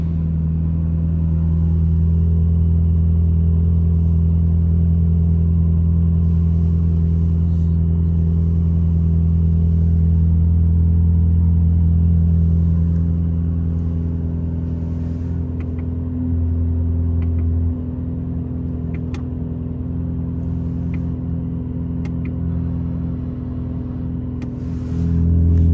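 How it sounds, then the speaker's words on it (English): A Mercedes-AMG GT Black Series with a bi-turbo V8 and flat-plane crankshaft idles and revs close by, its deep steady rumble swelling and settling over about twenty-five seconds. "let's listen to the sound of this V8 bi-turbo with a flat 180 degrees angle crankshaft in action"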